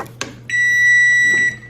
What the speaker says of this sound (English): Timer off.